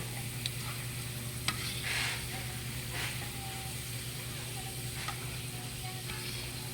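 Peanuts sizzle in a pan while being stirred, a soft steady frying hiss with occasional scraping strokes and light clicks of the utensil.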